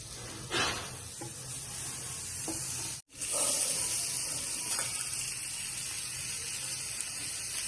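Tandoori mushrooms with onion, tomato and capsicum cooking over a low flame, giving a steady soft sizzle with light scraping and stirring noises close by, briefly cut off midway.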